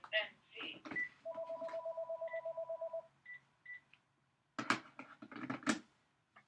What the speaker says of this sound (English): you just heard the phone ring at my house